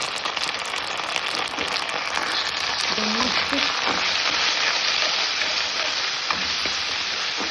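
Onions sauté in a pan with ginger and garlic paste, giving a steady close hiss of frying that carries on evenly throughout, with faint background voices.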